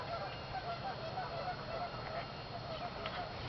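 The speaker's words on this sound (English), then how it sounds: "There's some geese standing there just calling" Geese calling from tall reeds at a nature center, a scatter of faint honks carried over a steady outdoor background with some distant voice-like murmur.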